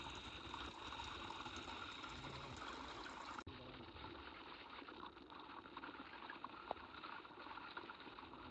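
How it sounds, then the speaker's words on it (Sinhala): A small, clear forest stream trickles steadily on a hike toward Kirigalpoththa in Sri Lanka, a soft, continuous wash of running water heard at low volume. "මේ විදිහේ පොඩි පොඩි වතුර පාරවල් ගොඩක් අපිට හම්බුණා"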